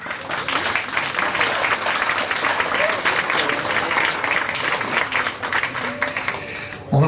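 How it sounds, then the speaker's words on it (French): Hearty audience applause at a French community gathering, a loud, dense, continuous clapping crowd sustained for several seconds with voices mixed underneath, ending in a sudden louder burst. "on applaudit bien fort"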